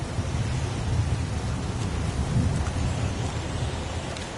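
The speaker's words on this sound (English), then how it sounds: "It's pouring rain." Heavy rain pours steadily in the Heavy Rain video game, a dense, constant hiss with low, rumbling thunder rolling underneath throughout.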